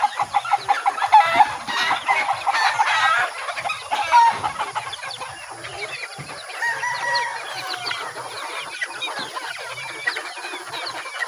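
Backyard chickens and chicks cluck and cheep continuously, with a hen's calls standing out near and clear over a busy flock chorus.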